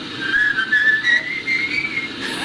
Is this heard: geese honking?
no